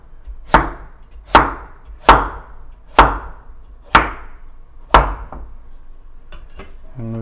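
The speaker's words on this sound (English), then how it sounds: "This is a very thin piece, so basically just chop that up." A Chinese chef's knife, a slicing cleaver, chops a thin piece of food on a cutting board: six sharp, evenly spaced knocks about a second apart, close and clear, with no talking.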